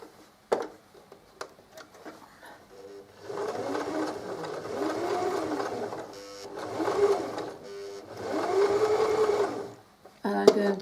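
A sewing machine stitches and reverses over a rip in a shirt, running in three steady whirring bursts of a few seconds each, with brief pauses and faint handling clicks between them.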